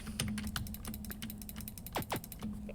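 Rapid mouse or keyboard clicks on a computer while playing a design game, a quick run of sharp taps close by with a steady background hum and a couple of faint electronic tones.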